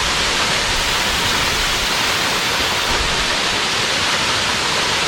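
Uçansu waterfall roars nearby, a loud, steady, dense rush of falling water that fills the whole clip without a break.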